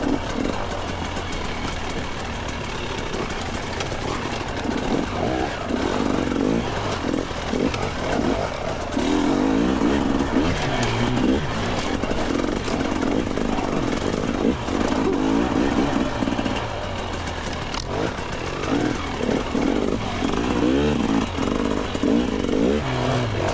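A dirt bike rides a rough trail, its engine droning steadily and rising and falling with the throttle while clattering bumps and wind noise come through close and loud across the whole stretch.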